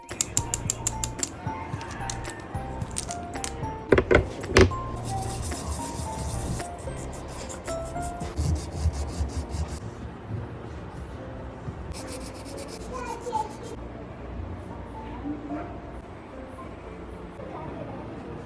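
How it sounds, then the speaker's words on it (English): Sanding of dried handmade clay keychains, a soft repeated rubbing and scraping that runs steadily up close with a few sharper scratchy bursts, heard alone without talk. "I am giving you guys few seconds of ASMR while I do the sanding"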